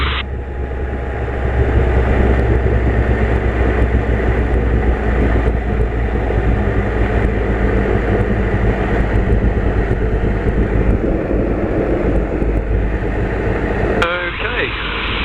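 A Spitfire's engine drones loud and continuous in flight over Duxford, throttled back to zero boost as the RPM falls, a heavy rumbling hum with wind roar that runs throughout under a pilot's talk.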